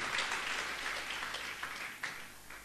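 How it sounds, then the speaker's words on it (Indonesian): Applause from a church congregation during an Indonesian sermon, a dense, steady patter of many hands filling the room, fairly even in level with a few sharper claps standing out near the end. "Tepuk tangan yang lebih panjang bagi."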